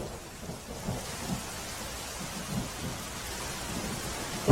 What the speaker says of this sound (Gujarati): પોરબંદરના બરડા ડુંગરમાં ધોધમાર વરસાદ પડ્યો છે